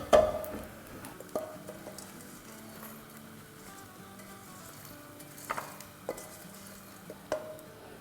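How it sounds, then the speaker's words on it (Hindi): Edible gum (gond) frying crisp in hot ghee, a quiet soft sizzle with scattered small pops and clicks of the pan, faint and close with no talk. "तो ये देखिए क्रिस्पी करारा जब आवाज़ आने लगे, ऐसा हर दाना फूल जाना चाहिए जब तक इसे हमें फ्राई करना है"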